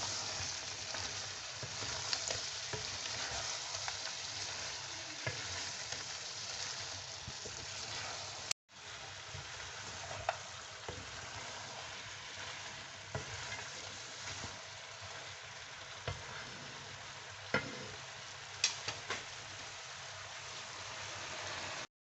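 Spices for karahi gosht are mixed and cook in a pan with a quiet, continuous sizzle and scattered clicks of stirring, briefly cut to silence midway, with no speech.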